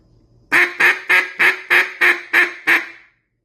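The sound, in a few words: duck call being blown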